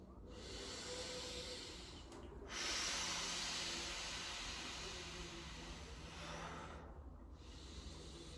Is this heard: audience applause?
no